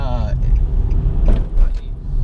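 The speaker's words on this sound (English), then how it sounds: "we're gonna get on the freeway here" Car interior road noise with steady low engine and tire rumble as the vehicle merges onto a freeway behind a truck, loud and continuous throughout.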